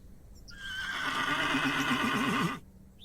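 A horse in the video game The Excavation of Hob's Barrow whinnies once for about two seconds, its call rising and then breaking into a wavering, shaky tail before cutting off.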